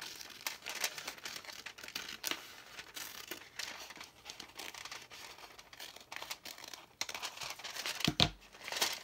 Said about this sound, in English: I'm just gonna trim that piece off.